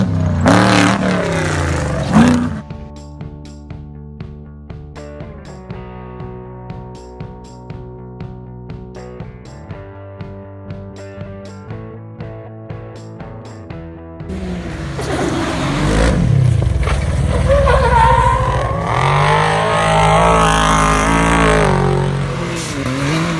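An off-road race car at the McKenzies 300 desert race revs hard and close in the final stretch, loud and rough, after a long passage of steady rhythmic music.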